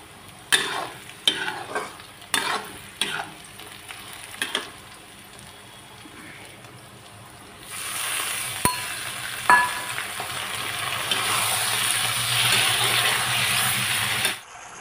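Cashews roast in a pan for a vegetable dish, with several sharp scraping strokes of a spoon at first, then a loud continuous sizzle and further stirring scrapes, no talk.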